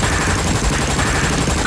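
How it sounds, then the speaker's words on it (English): Dense, continuous rattling gunfire, loud and rapid, with overlapping shots filling the whole stretch. "peeled out amidst the sound of gunfire"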